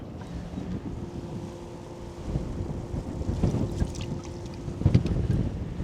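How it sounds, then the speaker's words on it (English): Strong wind buffeting a boat on the water while fishing near Pleasure Island, Port Arthur, Texas: a loud, continuous rumbling roar of wind noise with a low engine-like hum, growing gustier toward the end, no talk. "It's the wind's too much, man."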